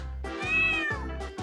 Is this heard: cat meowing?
yes